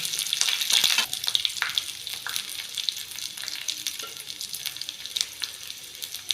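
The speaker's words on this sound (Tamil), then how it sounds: "கடுகு உளுத்தம் பருப்பு கடலைப்பருப்பு பச்சை மிளகா கருவேப்பிலை இஞ்சி கேஷ்யூநட்லாம் சேர்த்து தாளிச்சுக்கலாம்" Mustard seeds, urad and chana dal, green chili, curry leaves, ginger and cashews crackle and sizzle in hot oil as they are stirred in a pan, giving a close, continuous hiss with sharp pops throughout.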